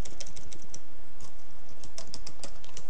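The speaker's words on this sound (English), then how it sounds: "So I just type in that pattern that I expect." Fingers patter steadily across a computer keyboard in quick, light clicks, close by with no voices.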